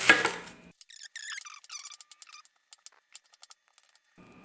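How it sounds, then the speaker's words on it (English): A knife chops a whole onion into mince on a board during guacamole prep, a quick run of sharp, close taps in irregular bursts that trail off, with a busier rustle of handling at the start and end. "First thing I'm actually going to do is chop up the onion"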